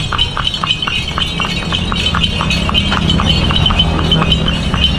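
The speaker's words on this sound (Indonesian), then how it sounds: "Berarti kuda ini dia tidak capek guys, disuruh lari terus dia tidak capek." Horse hooves clip-clop in a steady, quick trot as a single horse pulls a delman cart in Bantaeng, South Sulawesi, the rhythmic clopping close and clear over a constant rumbling road and wheel noise.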